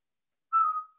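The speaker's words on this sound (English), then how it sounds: "So do you whistle?" A single short whistled note from a person, clear and steady then trailing off, heard alone against silence.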